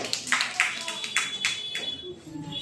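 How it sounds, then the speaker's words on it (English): A classroom of English-practice students gives a short burst of scattered, uneven hand claps at moderate distance, thinning out after about two seconds, with a faint steady electronic tone running underneath. "Okay, everyone clap."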